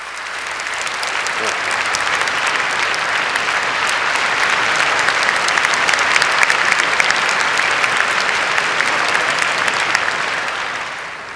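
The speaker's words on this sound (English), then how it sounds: "yeah, well, go ahead, clap." A large audience at a mathematics lecture applauds steadily, a dense, sustained clapping that swells slightly and then fades toward the end, with no talk over it.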